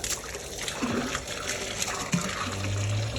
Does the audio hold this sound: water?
yes